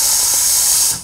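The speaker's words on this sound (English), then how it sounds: "the first thing I remember to do is to purge the steamer by pressing either of the two buttons" A Lavazza Blue LB4724 capsule machine's steam wand purges residual water in a loud, close, steady hiss of steam that cuts off abruptly after about a second.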